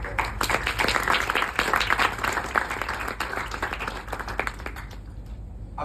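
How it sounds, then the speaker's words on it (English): Audience clapping at a TEDx talk on dance for disability, loud and lively, with many individual claps standing out in a dense, close round that thins slightly toward the end. "clap for people like that"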